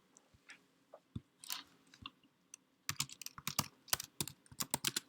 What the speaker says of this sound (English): I typed in his name in the search